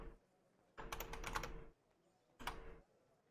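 Keys clatter on a computer keyboard in two bursts of typing, a longer rapid run and then a short flurry, with quiet gaps around them, close and fairly soft, and nobody speaking.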